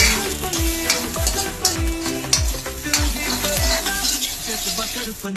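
Paneer cubes frying in a pan for butter paneer masala, a steady close sizzle with repeated scraping strokes of a spoon stirring through the whole stretch, no talking.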